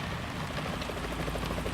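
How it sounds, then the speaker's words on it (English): Helicopter rotor chop in Metal Gear Solid 2, a steady, fairly loud whir with rapid blade pulses filling the short stretch, no voices over it. "Is that a chopper I just heard?"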